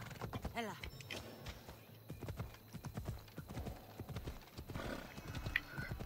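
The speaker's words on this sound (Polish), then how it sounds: "No proszę, koń zeskoczył tutaj z płotu." Horse hooves clip-clopping steadily with a neigh near the start in Assassin's Creed Odyssey, as a horse jumps down from a fence, soft and fairly distant with a voice talking faintly.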